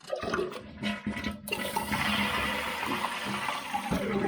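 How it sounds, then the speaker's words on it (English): A dual-flush toilet flushes close by, a loud rushing gush of water that surges after a brief click and keeps draining steadily, with no talking. "I'll show you what this one looks like when it gets flushed"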